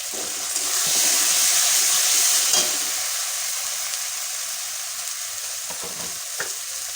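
Egg korma sizzles in a pan with salt and turmeric, a loud steady frying hiss and crackle that swells for a couple of seconds, then settles with occasional stirring scrapes and no talking.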